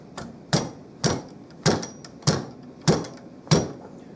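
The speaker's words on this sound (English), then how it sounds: "I'm going to try to dislodge this this forearm." Sharp hammer-like knocks on the walnut-stocked forearm of a Marlin 336 lever-action rifle, seven close, loud blows struck at a steady half-second rhythm as it is worked loose.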